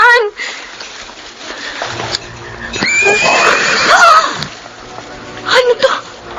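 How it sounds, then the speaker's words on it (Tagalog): A horse neighs loudly up close as a horror drama effect, with a long whinny in the middle and another short one near the end, over dark ambient sound. "Bakit may haninghing ng kabayo na nagmula sa likod ng puno sa di kalayuan?"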